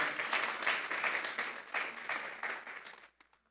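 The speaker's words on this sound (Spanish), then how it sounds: "Vamos a darle una ofrenda de palmas a Dios en esta hora." Church congregation clapping together as an offering of praise to God during a Spanish-language service; dense, even applause from many hands over about three seconds, then quickly fading out.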